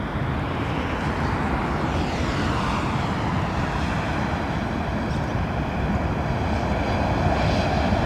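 A Singapore airliner lands at London Heathrow into a headwind, its jet engines a loud, steady broadband roar that holds constant throughout, with no voices over it.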